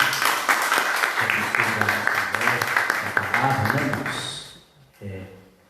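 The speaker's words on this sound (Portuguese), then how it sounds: "Vamos aplaudir Jesus." A church congregation claps steadily for several seconds, a dense patter of many hands with voices mixed in, fading out before someone speaks briefly.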